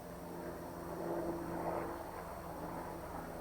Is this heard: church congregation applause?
no